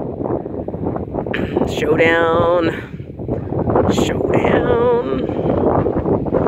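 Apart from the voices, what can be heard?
wind blowing in the desert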